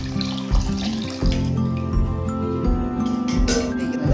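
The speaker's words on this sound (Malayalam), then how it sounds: "ഇതിലോട്ട് ഞാൻ ഇനി ശർക്കരപ്പാനി ഒഴിക്കുക." Strained jaggery syrup is poured into ghee-coated rice for unakkalari payasam, a continuous liquid stream splashing into the pot, close and fairly loud with a faint tonal hum beneath.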